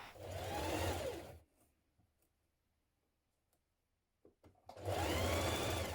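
A sewing machine runs in two bursts while stitching a seam on a 1970s vintage wrap dress, whirring steadily for over a second, then pausing with faint clicks before starting up again loud and close.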